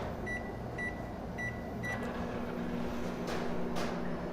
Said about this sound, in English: I was coming here to the kitchen, to the microwave, to warm up my lunch